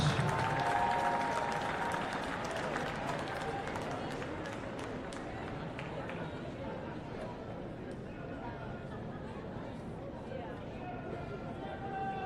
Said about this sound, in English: please, one more time, a round of applause for our runners-up in Class A